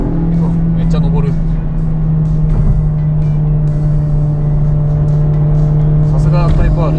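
A Honda Civic Type R FL5 with a VTEC engine drones steadily from inside the cabin while driving uphill, a constant engine hum under people talking.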